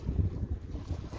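Gusty wind of about 3.4 buffets the microphone with low, rumbling bursts, close and moderately loud over a brief moment.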